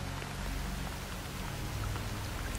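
Steady rainfall patters in a dense, even hiss with scattered drop ticks, a calm continuous wash with a low background hum and no voices.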